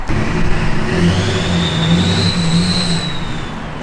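A Duramax diesel-swapped Chevrolet K20 pickup roars continuously with a rising high-pitched whine over a rough rumble, revving hard while its tires spin and burn rubber.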